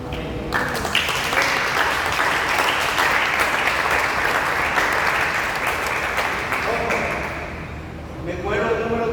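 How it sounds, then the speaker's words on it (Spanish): A church congregation in Costa Rica bursts into sustained loud applause lasting several seconds, with voices and occasional thuds mixed in before the clapping thins out near the end. "denle un aplauso al Señor"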